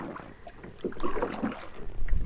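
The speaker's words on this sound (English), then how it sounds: "Super windy." Strong wind blusters across a lake around a kayak, gusting noise buffeting the microphone with irregular swells and water splashes against the hull, fairly loud and continuous, with no voices.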